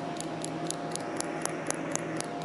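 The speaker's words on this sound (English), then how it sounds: "That's the sound of the sonar pings" A Polaroid sonar rangefinder emits a steady series of short, evenly spaced high clicks or ticks over a faint hiss, with about ten pings in quick succession.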